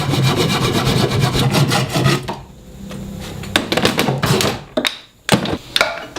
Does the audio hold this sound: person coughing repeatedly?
no